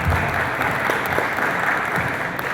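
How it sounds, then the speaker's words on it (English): Steady, dense applause from the audience at a city redistricting commission meeting, honouring a councilwoman; the clapping stays loud and even throughout, with no talk over it. "Let's give her a round of applause."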